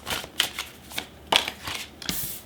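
Tarot cards shuffled by hand in a few quick, soft riffling bursts at close range, with short pauses between.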